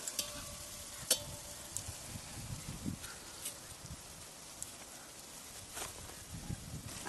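Almonds and cashews frying in oil in a pan over a wood-fired stove, a faint, steady crackling sizzle with scattered soft pops and stirring scrapes.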